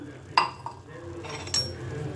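A spoon stirs milk and cornflour in a pot, giving a few sharp metallic clinks against the pot over a quiet, low background.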